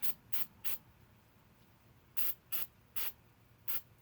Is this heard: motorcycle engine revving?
no